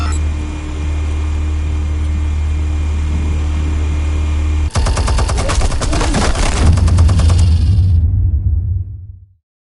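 Rapid automatic gunfire from the Batman: Telltale video game erupts loudly after a steady background hum, a dense burst of shots lasting a few seconds before cutting out to silence.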